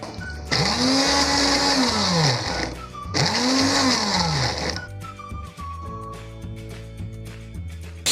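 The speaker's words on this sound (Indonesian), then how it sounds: "Di sini jahe juga kita haluskan ya teman-teman ya, kecuali lengkuas dan serai." Kitchen blender grinding ginger into a spice paste for sambal goreng udang, roaring loudly as it revs up twice in long bursts, then settling into a lower steady whir before stopping.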